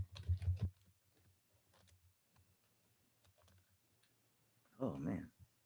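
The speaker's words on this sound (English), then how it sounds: "I was typing." Sparse keyboard typing, faint and close, with scattered soft key clicks between two louder bursts of noise or voice at the start and end.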